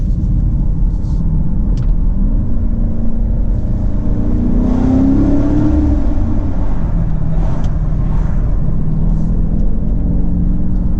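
A 2020 BMW X7 M50i SUV rumbles through a tunnel, its engine note swelling briefly as it revs over a loud, continuous interior drone.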